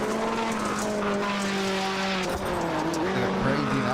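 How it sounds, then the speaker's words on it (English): A beat-up rallycross race car at Atlanta drives toward the finish, its engine droning and shifting pitch as it passes, loud and continuous, with a commentator talking over it. "That beat up race car trying to nurse it home"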